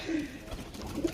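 A Kasuri pigeon gives a few soft low coos, near and fairly quiet, with a short pause between the first coo and a couple of later ones.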